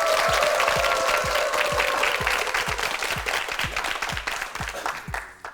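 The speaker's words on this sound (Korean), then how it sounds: "박수 보내주세요." Studio audience applause on a Korean TV word quiz show, a dense, loud wash of clapping that holds steady for several seconds, then thins out and fades toward the end.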